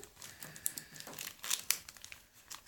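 A paper pocket letter sealed with masking tape is peeled and opened, giving quiet crinkling and a few sharp tearing rips and rustles, close and soft with no talking.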